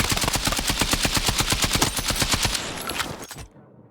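A KTS shotgun fires in a video game as a loud, rapid string of evenly spaced shots for about three seconds, ending in a brief echoing tail.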